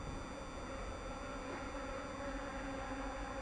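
Honeybees buzzing at an apiary hive, a dense, steady drone of many bees close by, faint and continuous with no voices.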